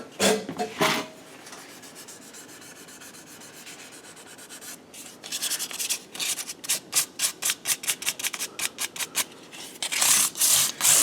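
Fine 800-grit sandpaper rubs across guitar frets in short, scratchy strokes, a brief burst at first, then a quieter stretch and a rapid series of close, crisp back-and-forth passes toward the end.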